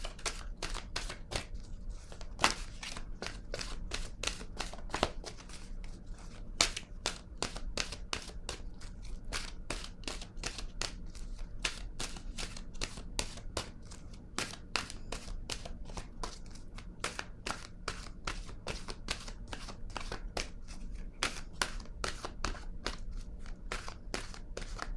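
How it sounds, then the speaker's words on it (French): Oracle cards from an intuitive-soul oracle deck being shuffled, a steady run of quick, close, soft flicking snaps that carries on at an even pace for the whole stretch with no talking. "je vais piger une carte de mon oracle de l'âme intuitive"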